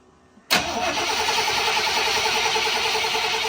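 A new Chevy 350 V8 in an '89 Chevy K1500 is cranked over with the coil pack unplugged to prime the oil, a loud steady whirring churn that starts abruptly and holds without firing.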